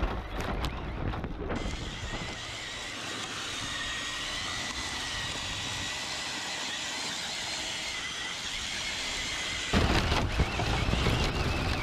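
Horses at a farm neigh, and their hooves clip-clop among steady outdoor noise and a constant engine-like drone, with a few louder bursts at the start and end.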